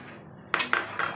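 A spoon stirring mango ice cream mixture in a pan over a medium gas flame, giving three quick metallic scrapes and clinks close by, with no talk.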